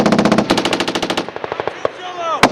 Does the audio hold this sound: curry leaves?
no